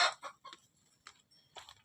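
A few short, quick clucks from a chicken, close and clear, with brief pauses between them in otherwise quiet surroundings.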